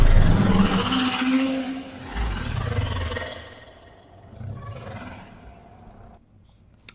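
Otherworldly dragon sound design layers deep guttural roars with a wavering tremolo texture, swelling and fading in several loud bursts before cutting off abruptly.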